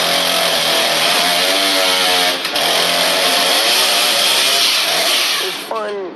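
A chainsaw revs loudly and steadily for several seconds, its pitch wavering slightly before it cuts off near the end.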